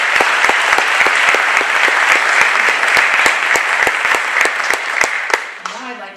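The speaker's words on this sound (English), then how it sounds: "I would like to give all of those folks a round of applause" Sustained applause from a hall audience at a 2024 Hall of Fame ceremony, loud and steady with sharp individual claps standing out, fading away near the end.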